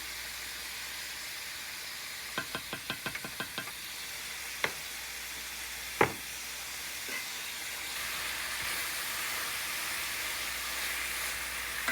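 Bell peppers and onions sizzling in a pan as a teaspoon of minced garlic goes in, with a soft continuous sizzle, a quick run of utensil taps, a few sharper knocks, then a louder steady hiss.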